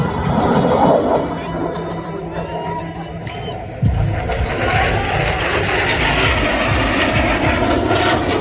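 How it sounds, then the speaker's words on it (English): An F-16 fighter jet roars past at an air show during a four-point roll, a loud, broad engine rush with crowd noise around it. "In from the left, the F-16 and the 4-point roll."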